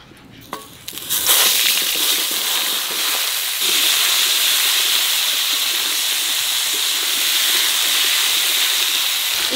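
Young green jackfruit going into hot oil for a Bengali jackfruit-and-prawn curry: quiet handling, then a sudden loud hiss of sizzling after about a second that carries on steadily and close up.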